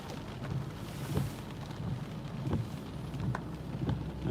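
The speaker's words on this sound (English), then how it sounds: "It's still raining." Steady rain falling outdoors in eastern North Carolina in the aftermath of Hurricane Florence, a continuous broadband wash with a few brief louder spatters, moderately close and without talk.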